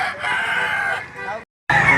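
A yellow-legged rooster crows loudly at a chicken market in Lipa City, Batangas, one long sustained crow followed by a brief pause and the start of another, with busy market noise behind it.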